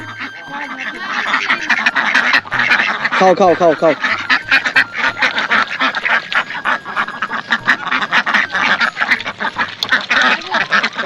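A crowd of ducks penned in a shed on a remote Padma river island quacks loudly and almost without pause, while a person's voice calls out over the flock.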